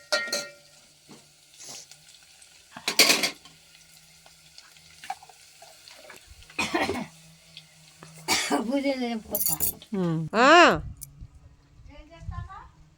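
Sliced onions dropped into hot oil in a home kitchen pan, a few short bursts of sizzling and stirring, with someone speaking and coughing in between.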